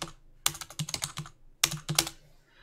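Two quick bursts of computer keyboard typing, crisp close keystrokes separated by a short pause, as values are entered into a LibreOffice Calc spreadsheet in a quiet room.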